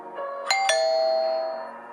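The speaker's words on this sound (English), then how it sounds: "the doorbell rang" A house doorbell chimes with two quick struck tones, and the bright ringing note hangs on and slowly fades over the next second with no voices.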